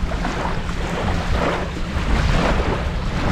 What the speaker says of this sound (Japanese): ちょっとね波も荒れてきたし